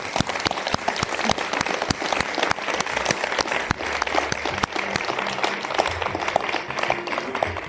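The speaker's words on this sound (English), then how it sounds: "Round of applause." An audience at the Marlborough Book Festival applauds author Eileen Merriman with sustained, crisp clapping. Individual sharp claps stand out over a dense, steady patter throughout.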